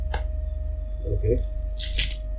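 Metal pannier stay brackets for a KTM 390 Adventure clink and rattle as they are handled during unboxing, with a few sharp close clatters over a steady low hum and brief soft speech.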